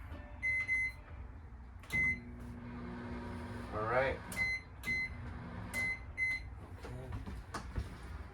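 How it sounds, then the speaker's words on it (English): A microwave oven in a 2022 Forest River Wildwood 29VBUD travel trailer hums steadily with repeated short electronic beeps and clicks, and a person speaks briefly near the end. "Microwave, just staying in operation."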